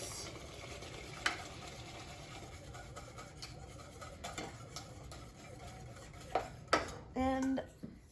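A whisk or spoon scrapes and taps against a pot as egg yolks are stirred into a milk mixture for crème brûlée, quiet rhythmic clinks with a few sharper metallic knocks near the end.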